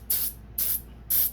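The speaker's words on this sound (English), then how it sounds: "spray the inside of this mold box, right? with some of this Poly's 2500 from SRC" Three short, close bursts of aerosol spray as Poly's 2500 mold release from SRC is sprayed inside a mold box for making silicone fishing-lure molds, each hissing puff evenly spaced with no talking.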